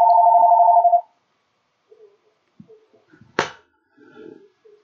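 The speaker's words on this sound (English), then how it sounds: "What is with all these phone calls?" A telephone rings once with a steady electronic trill, then cuts off, leaving scattered quiet knocks and rustles.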